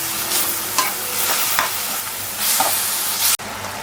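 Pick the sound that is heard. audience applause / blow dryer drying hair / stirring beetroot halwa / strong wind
stirring beetroot halwa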